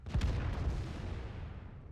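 A tank cannon fires in World of Tanks: a single sharp, booming shot followed by a long rumbling decay, alone and fairly quiet, with no talk.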